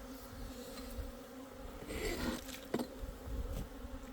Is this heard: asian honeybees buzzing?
yes